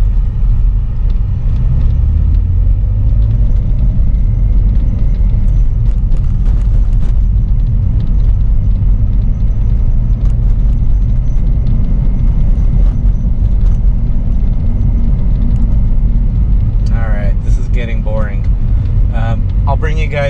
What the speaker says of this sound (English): Literally driving on the cracks in the road to try and initiate that noise